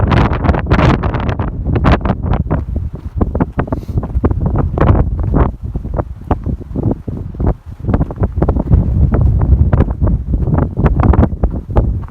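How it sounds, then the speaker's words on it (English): Strong wind on a Pacific Crest Trail hike buffeting the microphone in loud, rough gusts that surge and drop repeatedly, with no voices. "It would be really nice out if it weren't so windy."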